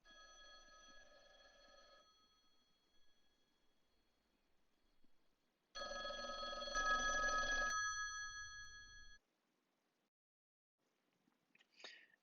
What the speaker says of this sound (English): an agent navigating to find a ringing phone in our simulation